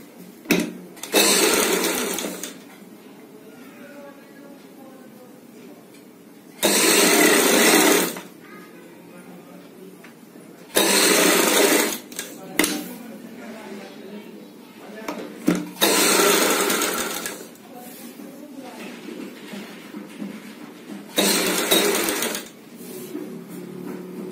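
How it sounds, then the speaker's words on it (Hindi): A sewing machine stitches one side of lace onto a kurti front, running in several loud bursts of rapid whirring separated by pauses, with quieter handling sounds between runs. "पहले लेस की एक साइड सिलाई लगाएंगे"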